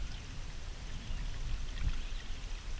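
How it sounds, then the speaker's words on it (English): Light rain patters in the Temagami wilderness of northern Ontario, a soft, even hiss of scattered drops with low rumbling undertones, continuous and fairly close. "the little rain never stopped me"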